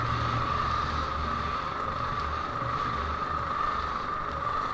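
Racing kart engine running steadily on track while the driver weaves to warm the tires before a race start, a constant buzzing drone with heavy wind rush over the microphone throughout.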